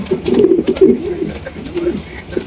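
Pouter pigeons, including a black magpie pouter pair, coo in a close, steady, low run of throaty notes with a few soft breaks, loud and near with no talk.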